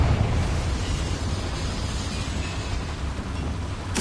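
A Confringo fire spell explodes in Hogwarts Legacy as a long, roaring, sustained blast of broadband rumble lasting several seconds with no talk, ending in a sharp burst.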